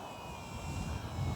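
A model aeroplane's motor drones steadily throughout, heard from a chase plane flying alongside, a continuous engine hum with no voices.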